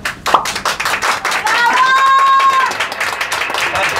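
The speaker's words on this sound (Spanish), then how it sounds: "Aplausos para el número uno." Lively audience clapping for contestant number one at a clown show party in Mexico, brisk and uneven, with a whistle or squeal rising midway and some crowd voices mixed in.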